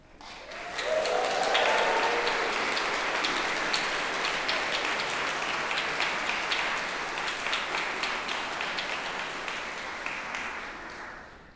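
A graduation audience applauds in a long, steady roar of clapping with cheering mixed in, filling a large hall for several seconds.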